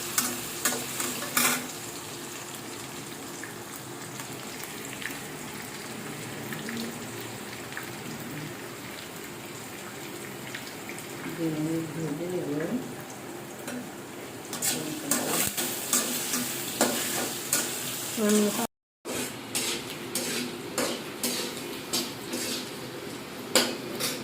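Potatoes frying on high heat in a pan, a continuous crackling sizzle broken by repeated scraping strokes as the food is stirred, with a brief dropout near the end.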